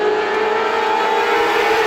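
A steady, loud roar of Classic Lites race cars droning together on a green-flag restart at Star Speedway, with a sustained mechanical whine and no breaks.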